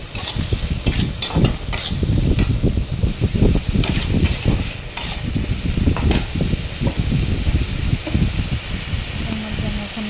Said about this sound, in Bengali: তারপর আমি ডাল দিয়ে দেবো, ডালটা দিয়ে ভালো করে কষিয়ে নেব।